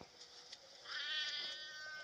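A cat meows in the video game Sheltered, a single drawn-out, slightly strained meow rising out of quiet game ambience, preceded by a couple of faint clicks.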